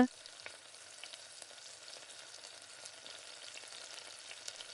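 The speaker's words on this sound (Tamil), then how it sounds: "அந்த மாதிரி இப்போ எல்லாத்தையும் இதில் சேர்த்துட்டு அப்படியே நல்லா கிளறி விட்டுக்கோங்க." Chicken fried rice ingredients are stir-fried in a pan, making a continuous, fairly quiet frying hiss with faint stirring scrapes and no voices.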